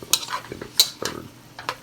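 A utensil stirs beef and bell peppers in a hot pan after the heat is turned off, with a handful of sharp scrapes and clinks against the metal over a soft residual sizzle.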